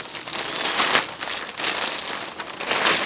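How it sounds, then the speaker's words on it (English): A large plastic contractor bag crinkles and rustles in repeated handling bursts, close and moderately loud, with no voices. "I'm going to put everything inside a plastic bag like this"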